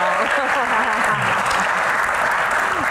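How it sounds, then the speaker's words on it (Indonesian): Loud, continuous audience applause at a stand-up comedy Q&A show, with voices cheering and shouting over the dense clapping. "tepuk tangan lagi dong"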